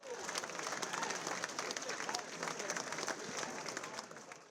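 Steady applause from the crowd at a formal ballroom awards evening, dense and continuous for several seconds with scattered voices mixed in, fairly distant and even in level.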